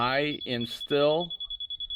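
A laser level receiver beeps a steady high electronic tone in rapid regular pulses, used while excavating for a patio; someone talks over the start before the beeps continue alone.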